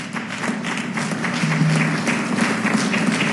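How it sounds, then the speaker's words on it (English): A crowd claps steadily at a public tribute to Carver High School. The sustained, even applause holds at a fairly loud level for several seconds, with no voices over it. "We can clap on that."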